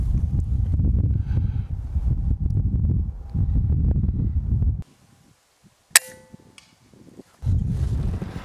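Daystate Pulsar .177 air rifle firing at tins about 100 yards away on a breezy day: one sharp, short crack amid gusting wind noise, then a quiet stretch before the wind returns.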